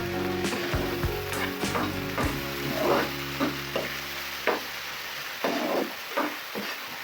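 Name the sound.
spices frying for loitta fish curry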